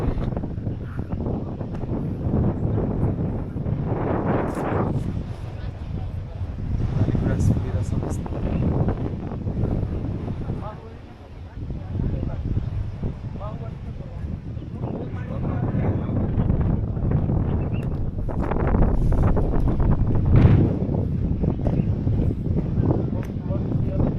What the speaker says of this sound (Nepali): मस्तको हावा चलिरहेछ